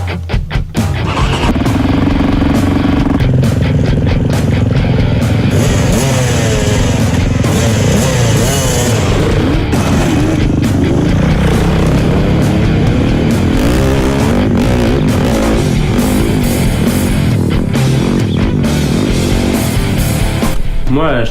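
A 450 SMR four-stroke enduro motorcycle engine runs loudly and close, with continuous revving and fluctuating throttle over rough outdoor noise for the whole stretch.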